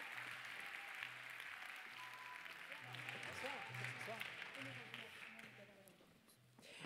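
Audience applause at a film festival closing ceremony, steady clapping heard fairly faintly in a large hall, with a voice talking over it and a low rhythmic musical pulse underneath.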